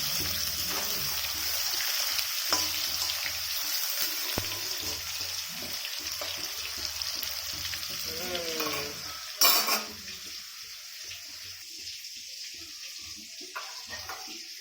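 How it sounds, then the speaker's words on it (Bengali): Sausages frying in a pan, a steady close sizzle with occasional utensil scrapes and a brief clatter midway, continuing alone without talk. "সসেজগুলো ভেজে ফ্রাই করে নেব।"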